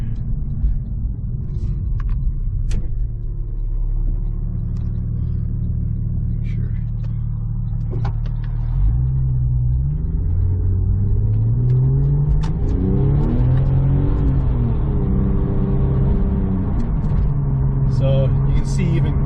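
A 2003 Porsche 911 Turbo drives and accelerates on a cold road, a steady low engine rumble rising in pitch as it pulls through the gear, with a voice talking over it throughout.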